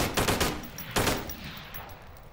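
Automatic gunfire in the Onward VR video game: two loud, close bursts of rapid shots, the second sharper, followed by a fading tail.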